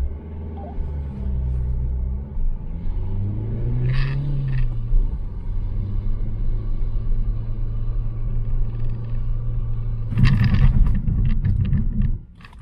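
Renault Clio pulling away on a racing circuit, a deep low rumbling engine note that rises in pitch as it accelerates, ending in a louder, rougher burst before it cuts off.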